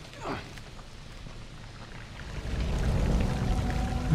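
Water pours down like a steady shower in The Last of Us, a broad rushing wash that swells louder in the second half after a brief splash near the start.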